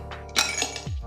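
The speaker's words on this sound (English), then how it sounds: "First, we need to add in some ice cubes." Ice cubes clink and knock into a sundae glass for a Dalgona coffee drink, a brief cluster of bright glassy impacts up close followed by a low dull thud.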